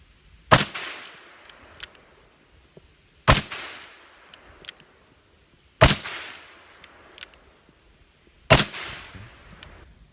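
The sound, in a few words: gunshots from Smith & Wesson 586 .357 Magnum revolver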